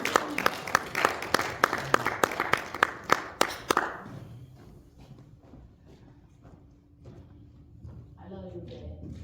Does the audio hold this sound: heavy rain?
no